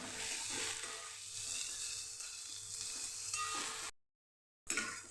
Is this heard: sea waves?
no